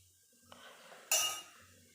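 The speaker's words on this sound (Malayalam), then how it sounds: "ഇത് ഇനി ഞാനിത് മറ്റൊരു പാത്രത്തിലേക്ക് മാറ്റുകയാണ്" Chickpea curry (kadala curry) is spooned from a pot into another vessel, giving a soft scrape and then a brief bright clink of metal on the dish, fairly quiet and with no talk.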